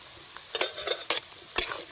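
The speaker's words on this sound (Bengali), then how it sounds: "পেঁয়াজটা ভাজা ভাজা হয়ে এসছে একটু হালকা। এবার আমি রসুন কুচিটা দিয়ে দেবো।" Onions and chopped garlic fry in a pan in a village kitchen, with three or four sharp spatula scrapes stirring over a faint, close sizzle.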